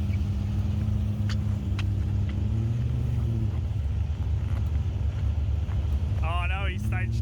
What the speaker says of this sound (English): we're heading up for the first pass in the Fairlane